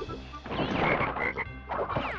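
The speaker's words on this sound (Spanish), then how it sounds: "No me he dado cuenta que estaba ahí la rana." A frog croaks in the PlayStation game Crash Bandicoot Warped: a loud, dense burst of rasping croaks with a few brief swells, no talking.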